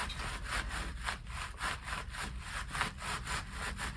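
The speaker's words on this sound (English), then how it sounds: "I will just go ahead and press it right down. Just pressing it into the sand." A candle mould pressed and worked down into sand in a pan, giving a steady gritty scraping and rubbing with a regular back-and-forth rhythm, close and continuous for several seconds.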